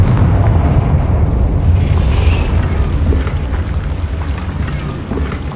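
A Confringo blasting curse explodes in Hogwarts Legacy, a loud rumbling boom that sustains and slowly fades with a crackling tail, heard alone.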